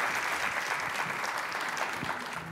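A television studio audience applauds throughout, a thick, even wash of many hands clapping at moderate loudness with no pauses.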